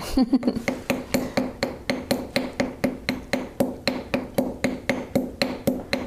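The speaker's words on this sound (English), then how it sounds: "let me just hammer this just a little bit" A hammer strikes a rivet in a studio, landing steady metallic blows at a regular rhythm of roughly three per second, close and loud, each with a short ringing decay.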